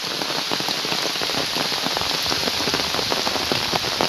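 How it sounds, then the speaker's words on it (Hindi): Steady, dense rain pours down in a Konkan village in Kankavli, a continuous close hiss of drops pattering on surfaces throughout with no voices. "देखो पूरा बारिश गिर रहा है"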